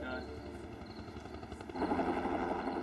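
A news media helicopter hovers over a trench collapse rescue scene, its faint, steady rotor drone rising and growing fuller near the end, with indistinct voices mixed in.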